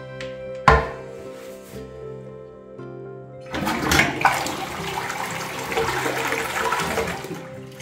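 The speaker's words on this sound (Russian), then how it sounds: "Заодно хотела вам показать, как работает наш унитаз." A bathroom toilet is flushed after a lid clunk, and the water rushes and gurgles loudly and close, then keeps running steadily as the tank refills.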